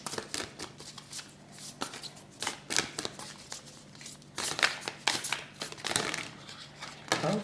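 A Lover's Oracle deck being shuffled by hand, soft riffling and slapping of cards in irregular bursts, close and fairly quiet with no talk.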